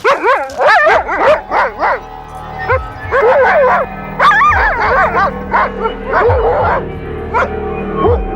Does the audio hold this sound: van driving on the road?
no